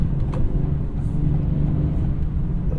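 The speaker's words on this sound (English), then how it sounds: "But this car is just idling a lot louder." A 2024 Acura TLX engine idles loudly with a deep, steady low rumble and constant hum, close and unbroken, with faint talk in the background.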